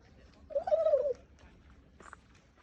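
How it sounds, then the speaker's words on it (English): A single short gobbling call from a white turkey, fairly close, followed by faint rustling in a quiet outdoor setting between Sarria and Portomarin. "got some white turkeys"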